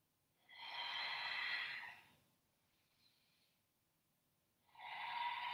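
Heavy, forceful breaths during an advanced Pilates exercise: a long, loud exhale, then a faint short breath, then another strong breath, each close and breathy with quiet pauses between.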